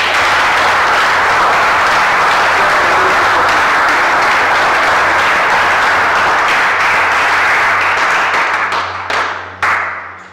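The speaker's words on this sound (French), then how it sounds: "Est-ce que tu peux acclamer très fort pour Dieu?" A church congregation at a French-language worship service applauds and cheers loudly for God, dense sustained clapping and shouts that hold steady then taper off in the final seconds.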